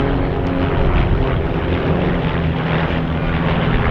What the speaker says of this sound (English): These are kit-built aircraft made of aluminium, which you can buy in a box and put together in your garage or your back garden.